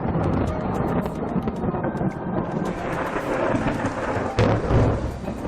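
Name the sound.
thunder during a thunderstorm with rain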